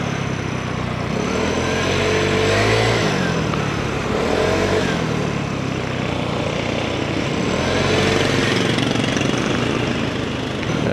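A 2024 Vespa Primavera scooter engine drones steadily while riding at night, a continuous buzzing hum with wind rush that swells slightly in places, close and loud with no talking.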